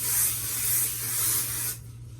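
A steady, close hiss of an aerosol hairspray being sprayed for nearly two seconds, then it cuts off to quiet room noise.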